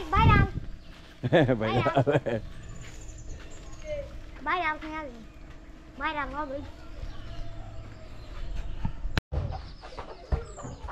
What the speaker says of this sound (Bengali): হাঁস, মুরগি, মুরগির ছানা, এই গেল গ্রামীণ জনপদ।